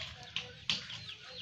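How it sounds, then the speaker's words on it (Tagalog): A mated pair of geese in a rural Philippine yard let out two short honking calls, close and fairly faint, over quiet farmyard background. "Ito naman po yung dalawang gansa na mag-asawa."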